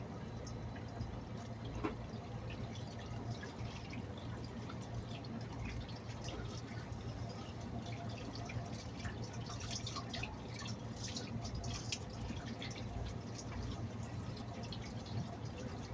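Cabbage is rinsed under lukewarm running water, a steady faint splash and trickle with scattered drips continuing evenly throughout, close and alone without talk.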